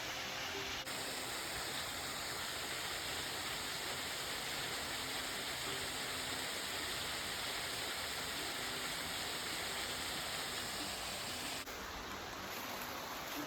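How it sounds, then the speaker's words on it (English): A waterfall beside a hiking trail gives off a steady, dense rushing roar that holds unbroken throughout, with no voices over it. "I didn't end up going down to the waterfall, to that one anyway."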